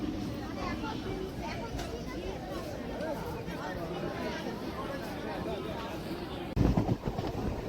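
A late-running passenger train rumbles steadily into a very crowded Ranaghat station, under constant crowd babble and chatter, with a louder burst of noise near the end.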